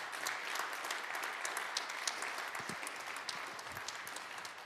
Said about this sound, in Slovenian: Iskrene čestitke in velik aplavz za oba ustvarjalca